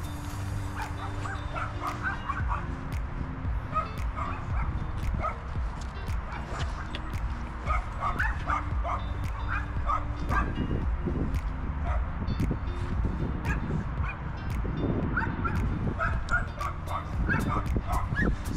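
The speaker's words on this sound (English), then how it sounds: "Got a couple pups behind the fence there" A couple of dogs behind a fence bark, yip and whimper continuously, some near and some farther off, as a person calls to them now and then.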